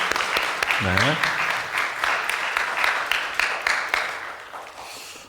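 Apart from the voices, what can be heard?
audience applause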